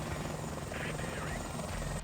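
A helicopter in War Thunder drones steadily with a buzzing rotor and engine roar, loud and continuous throughout, with no break in the sound.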